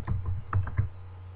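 Several quick keystrokes on a computer keyboard while writing a sentence in Microsoft Word, close and clear, followed by a steady low hum.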